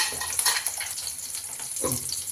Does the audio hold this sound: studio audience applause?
no